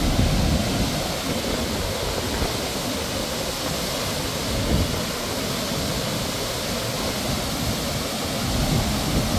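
Water released through the opened spillways of Maris Dam after Typhoon Yuan, near the Ifugao and Isabela boundary, roars as a loud, steady, broadband rush with no pauses and no talk.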